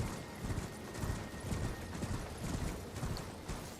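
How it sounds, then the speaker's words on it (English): Horse hooves of a knight's mount in the video game Elden Ring, a steady clip-clop rhythm heard faintly at a distance beneath a low ambient wash, with no voices. "there is a knight that is riding on a horse"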